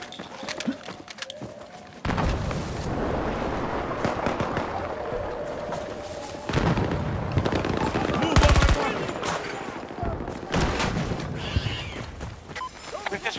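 Rapid bursts of automatic gunfire and single shots crackle across a Battlefield 2042 Rush match, loud and repeated in clusters amid battlefield noise and brief radio-style voice callouts.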